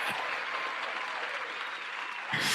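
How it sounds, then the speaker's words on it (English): Applause on a podcast, a dense, steady wash of clapping that fills the whole moment, sounding like a stock applause effect, loud and unbroken with no talk over it. "let me give a round of applause to my missus"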